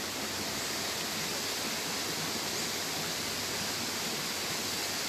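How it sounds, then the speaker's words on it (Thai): A small stream trickles and rushes steadily down its narrow channel, a smooth, unchanging wash of water at low, even volume throughout, with no voices present. "ได้ยินเสียงน้ำไหลกันไหมครับ"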